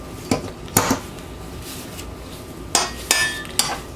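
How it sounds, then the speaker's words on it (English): Bath bomb ingredients being mixed in a bowl, heard as a handful of sharp, close knocks and scrapes of a utensil against the bowl in irregular clusters over a quiet background. "I'm going to fast forward through this so you don't have to hear all that mixing going on."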